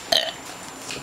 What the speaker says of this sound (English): Real burps.